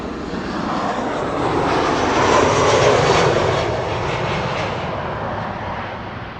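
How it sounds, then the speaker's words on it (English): Ryanair jet airliner arriving at Amsterdam Schiphol, a loud roaring pass that swells to a peak midway and then eases off, with no voices. "Ryan Air flight 1302, arriving from Dublin, Ireland."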